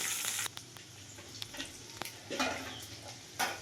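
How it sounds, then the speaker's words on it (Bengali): Pumpkin pieces coated in turmeric and salt frying in a pan give a soft, steady sizzle close by, with a brief louder burst at the start and scattered light ticks and spatters throughout. "একটু হলুদ আর নুন মাখানো আছে, অল্প ভেজে নেব।"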